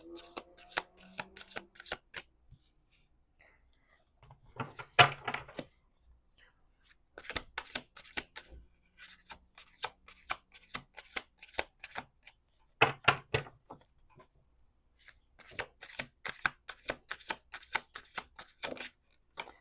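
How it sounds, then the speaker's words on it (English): Crisp riffling bursts of tarot cards being shuffled, repeated in several rounds with quiet pauses and occasional taps between them. "Let's do 2 more shuffles."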